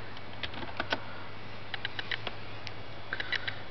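Typing on a computer keyboard, light irregular clicking in small bursts of keystrokes, fairly close and quiet with no voices.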